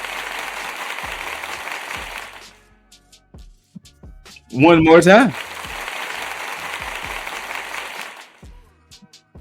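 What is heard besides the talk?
applause sound effect from an applause-o-meter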